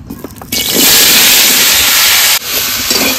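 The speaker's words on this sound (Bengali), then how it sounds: "এই তেলে সবজিগুলো দিয়ে দেবো।" Vegetables dropped into hot oil for a Bengali vegetarian dish set off a sudden loud, close sizzle that roars steadily, then drops briefly and continues at a slightly lower hiss.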